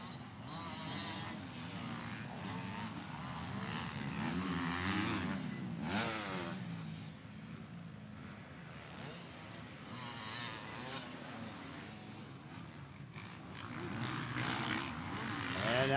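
Motocross motorcycles, including a Kawasaki, racing at the start of a Vet 35 plus class at Winchester Speedpark, with a continuous loud, rising and falling engine roar from several bikes throughout, under a track announcer talking.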